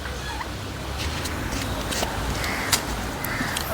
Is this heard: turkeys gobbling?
yes